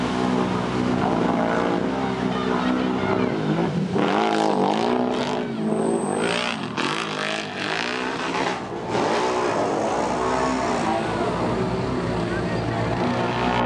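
Mud racing trucks roar side by side around a mud track, engines loud and continuous with revving swells throughout, while an announcer's voice calls over the din.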